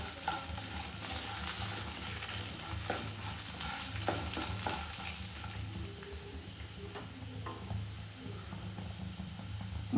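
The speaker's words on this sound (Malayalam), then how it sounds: "നമുക്ക് ഇതിലോട്ട് സവോളയും വറ്റൽ മുളകും തക്കാളിയും വെളുത്തുള്ളി ആഡ് ചെയ്യുക." Onion, dried chili, tomato and garlic sizzle and fry in a pan for a quick roasted-gram chutney, with a steady close, loud crackle and a few stirring scrapes, no voices.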